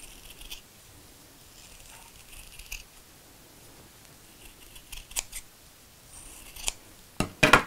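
Scissors cut out a felt dinosaur shape in a kids' sewing lesson, with quiet sporadic snips and rustles that build to a cluster of sharper, louder cuts at the end; no one speaks.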